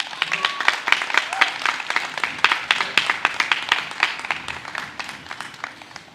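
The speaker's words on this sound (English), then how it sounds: "could we please have a round of applause for the families?" A ceremony audience claps to honor the families of Black law enforcement pioneers. The applause is dense and steady, with many sharp hand claps overlapping for about six seconds at moderate, even loudness.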